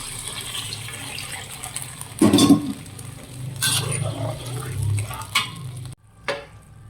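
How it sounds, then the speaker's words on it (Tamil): Duck curry being stir-fried in a pan with its own boiled cooking water and tomatoes, a wet stirring and sizzling sound with a few louder scraping bursts, close up, no talk. "இதோட சேர்த்து வதக்குறோம்"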